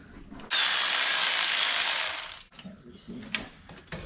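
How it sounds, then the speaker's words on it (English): A ratchet works on bolts of a high-mileage Mini Cooper S R53 engine during service, giving one loud, close burst of rapid clicking that fades into softer handling noises and faint talk. "torque these two bolts inside"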